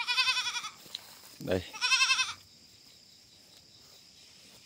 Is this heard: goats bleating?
yes